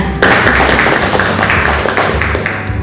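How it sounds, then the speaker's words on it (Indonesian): A roomful of people clap steadily, a dense, loud patter of hands that continues without a break, in a classroom lesson. "Beri tepuk tangan untuk temannya."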